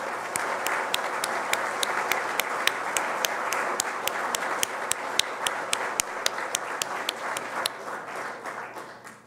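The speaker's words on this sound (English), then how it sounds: "I would like to give all of our panelists a huge round of applause" An audience applauds panelists at a community event: a sustained round of many hands clapping, with one close, loud, evenly spaced clapper standing out above the crowd before the applause fades at the end.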